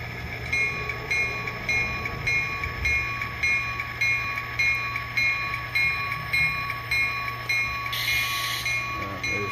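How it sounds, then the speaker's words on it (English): A freight train backs slowly onto a rail spur serving Armstrong Electric, its idling locomotive droning steadily with rhythmic rolling pulses from the cars, joined by a brief higher screech near the end. "our train backs onto this spur"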